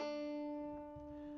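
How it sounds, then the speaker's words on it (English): An electric guitar plays a hammer-on and pull-off figure from a riff, a sustained plucked note with ringing harmonics and a quick change of pitch, quiet and alone. "You pluck this 1 on its own and you hammer on the 3rd and pull off back to the 1."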